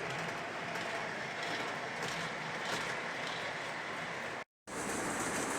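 A model passenger train runs past in an overhead layout in a room, making a faint, steady rolling rumble and clatter. A brief dropout interrupts it near the end.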